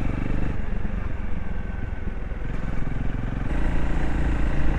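A Honda CRF250L motorcycle rides along the Tsurugisan Super Forest Road, its engine droning steadily up close with a rough, rumbling growl that swells slightly toward the end, with no talk over it.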